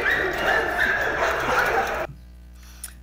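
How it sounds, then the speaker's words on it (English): Dogs in an animal shelter bark, yip and whimper together in a loud, continuous chorus filling one big space, then cutting off abruptly to near silence with a faint yelp. "I'm going to give you just a quick example of the barking and the sounds that are often witnessed throughout the day."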